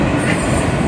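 A Union Pacific manifest freight train rolls past a road crossing at close range, a loud, continuous roar of wheels and rail noise filling the moment.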